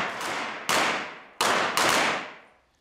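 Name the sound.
38 Special revolver gunshots at shooting range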